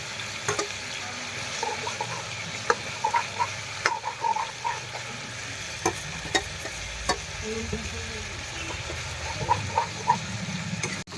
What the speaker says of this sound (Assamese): এতিয়া মছলা পাতি ফ্ৰাই কৰি আছো